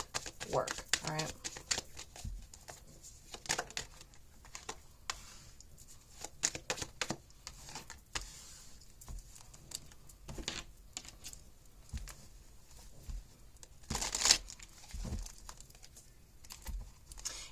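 Tarot cards being shuffled by hand, heard as quiet, irregular papery riffles and soft slaps in scattered bursts, with one sharper flurry near the end.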